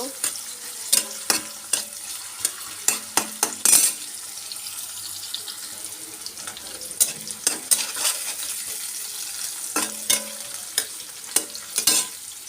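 Onion and garlic fry in a pan for a shrimp dish, with a steady soft sizzle broken by sharp scraping and clinking stir strokes at irregular intervals, close by and with no talking.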